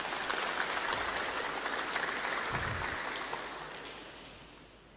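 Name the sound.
audience applause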